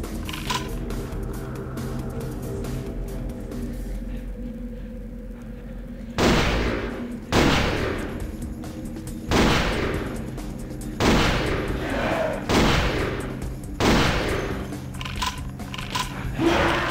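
Shotgun blasts in the Vampire: The Masquerade – Bloodlines video game, set in sewers: about six loud, booming shots at irregular intervals, each followed by a short decay over a steady low background.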